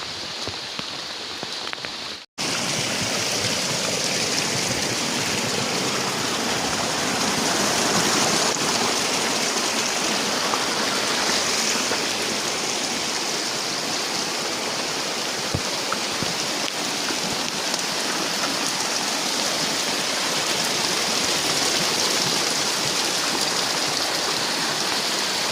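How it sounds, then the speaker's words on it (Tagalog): Heavy, non-stop night rain pours down as canals and creeks flood, a dense, steady, loud roar of falling and rushing water that starts abruptly and holds constant throughout. "Grabe, non-stop yung ulan."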